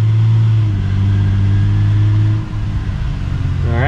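A '94-'03 Toyota Camry engine drones at speed with the car shaking, holding a steady loud note before shifting tone partway through as the revs change.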